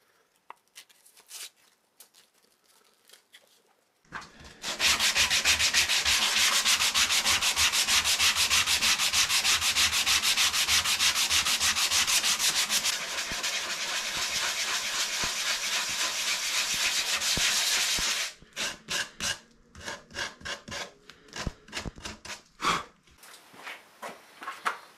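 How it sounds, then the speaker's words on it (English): Steady, loud abrasive rubbing of sanding across wood for about fourteen seconds, preceded and followed by scattered scraping and tapping noises nearby. "So just a little bit of finish sanding to do on that now"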